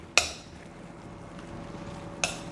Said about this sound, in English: So what I'm going to do is I'm going to mash these banana